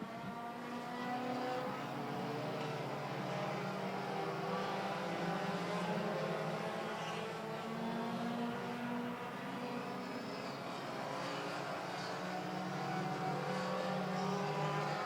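Pure stock race cars lap an oval track together. Engines drone and roar continuously at a moderate distance, with layered, slowly shifting pitches that rise and fade steadily and no voice over them.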